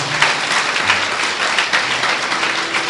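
Sustained applause from a crowd, a dense even wash of many hands clapping together, moderately loud and steady throughout with no talk over it.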